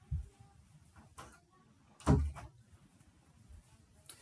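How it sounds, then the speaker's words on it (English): A door is pushed shut indoors in a classroom, giving one solid thud with a short rattle midway through, fairly close, otherwise quiet room with faint background noise. "Let me close this door."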